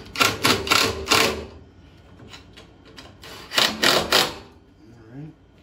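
Fittings on a Dewalt DXGN 14000 generator, converted for propane and natural gas, are tightened by hand, giving a few clustered bursts of close metallic clicking and ratcheting with quieter handling between.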